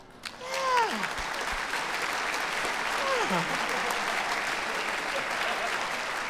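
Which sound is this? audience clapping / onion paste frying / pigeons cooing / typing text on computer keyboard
audience clapping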